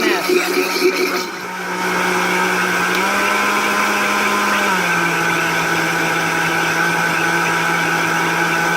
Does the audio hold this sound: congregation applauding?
no